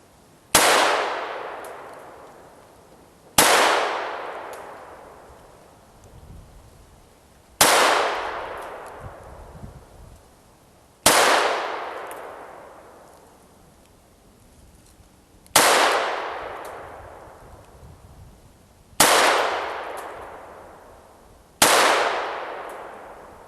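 A Smith & Wesson M&P 22 Compact pistol fires CCI Mini Mag .22 rounds as seven sharp, loud shots spaced a few seconds apart. Each shot has a ringing decay, and there is no speech between shots.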